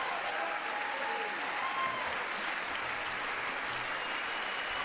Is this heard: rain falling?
no